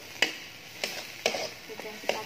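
A spatula scrapes and taps rhythmically against a pan while cooked chili sambal is stir-fried in oil, with sharp clacks about every half second over a soft background sizzle.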